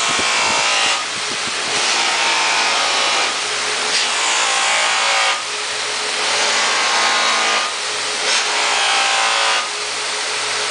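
A spinning polishing wheel buffs stainless steel trim toward a mirror finish, a loud steady whirring friction hiss that swells and eases in long passes as the metal is pressed against the wheel, with no talking.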